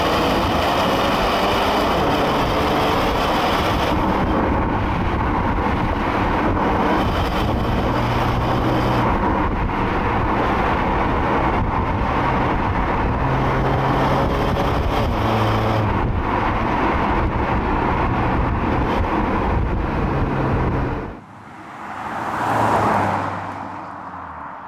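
Porsche Macan T SUV driving along a B-road with its gearbox in manual mode, a sustained engine and road roar with wind noise that shifts in pitch through gear changes, then drops away abruptly near the end.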